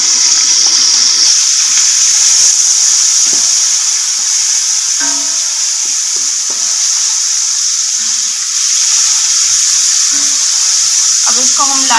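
Three medium onions sizzling in hot ghee, a steady bright frying hiss throughout, with someone talking over it intermittently.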